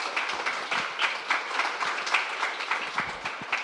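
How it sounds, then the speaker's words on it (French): Applause from a church congregation during a Sunday service, steady dense clapping with scattered louder claps throughout, moderately loud and without voices on top. "on peut les applaudir bien fort"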